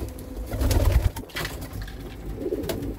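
Low, soft cooing of racing pigeons close by, a few throaty calls in quick succession with faint rustling around them.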